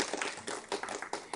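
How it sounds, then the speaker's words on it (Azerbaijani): An audience claps for the winning students of a school quiz contest, with scattered, uneven bursts of hand claps that swell and ease across a short stretch and no voices. "Alqışlayaq onları."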